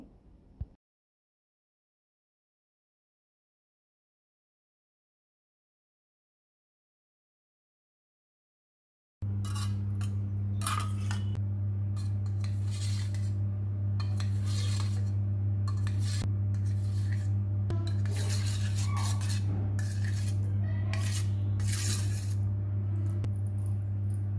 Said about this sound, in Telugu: చల్లారిన తర్వాత ఇలాగా పీసుల కింద అయితే కట్ చేసుకోవాలండి జెల్లీని